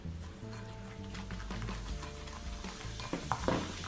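Lemon juice is stirred into a homemade remedy for cracked heels and fizzes steadily, with a spoon clinking and scraping in a bowl close by and rising crackle toward the end.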